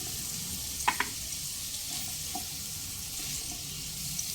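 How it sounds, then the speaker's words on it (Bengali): Carrots and beans fry over a medium flame in a pan, giving a quiet, even sizzle, broken early on by a couple of sharp clinks, with light stirring and occasional soft taps and no voices. "তিন থেকে চার মিনিট গাজর আর বিনস মিডিয়াম ফ্লেমে একটু ভেজে নেওয়ার পর দিয়ে দেব ওই এক বাটি মতো ছোট ছোট কেটে রাখা ফুলকপি"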